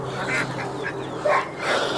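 Ducks quacking with geese honking among them at a small zoo, several calls in quick irregular succession, close and fairly loud over an outdoor background.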